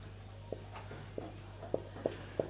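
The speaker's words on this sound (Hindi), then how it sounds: "तो यहाँ पर हम लिखेंगे राधा का हो गया राधा" Chalk or a marker writes on a board in short, separate taps and strokes, about six soft marks spaced at irregular intervals over a low steady hum.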